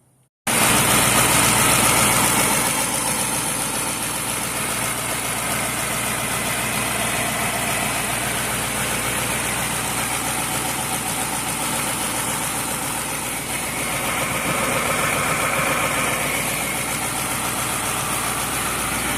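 A Caterpillar 3208 diesel engine fires up abruptly and settles into a loud, steady idle close by, its rumble continuing unbroken with no talk.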